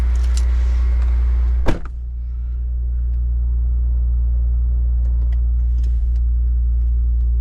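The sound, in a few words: Acura TLX Type S engine with PRL high flow air filter, cold start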